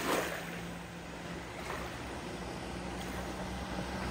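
Runabout motorboat engine on Lake Champlain running steadily, a broad continuous wash of engine and water rush at a constant level with no talk.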